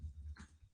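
A nervous dog whimpers close by in a single short, soft burst, with low rumbling room noise underneath.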